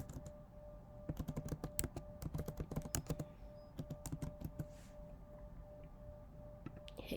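Rapid keystrokes on a computer keyboard as a domain name is typed, with bursts of clicky taps, brief pauses and a steady faint hum underneath.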